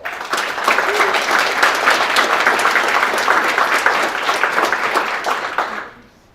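An audience at a school district board of trustees meeting applauds JROTC students, giving a full, steady round of clapping that stays loud before fading out abruptly near the end.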